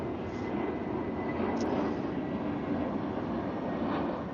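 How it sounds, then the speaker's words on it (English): Big airplanes pass overhead with a broad, steady, rumbling engine roar that fills the background evenly throughout, somewhat distant and without speech. "sorry, waiting for the airplanes to pass. There's some big airplanes."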